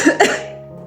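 A single harsh, close cough with a short double burst, trailing off into quiet.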